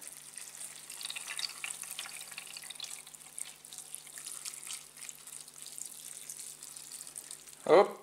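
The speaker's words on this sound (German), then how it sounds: "Dann füllen wir hier noch Wasser rein." Water pouring into a water tank makes a steady, soft hissing splash throughout, ending with a brief louder knock.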